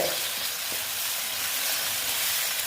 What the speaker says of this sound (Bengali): আমি জলটা দিয়েছি গরম জল